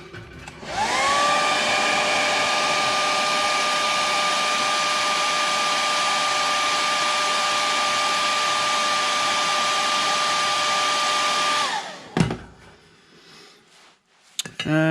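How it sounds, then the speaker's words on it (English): A hair dryer drying a watercolor painting runs loud and close with a steady whining roar for about eleven seconds, then switches off and spins down, followed by faint clatter and handling noises. "Dry it a little bit."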